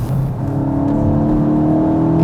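A Volkswagen Golf 8 GTI driving through wet corners, heard from inside as a steady engine drone and whir that rises gradually in pitch while accelerating, with no voices.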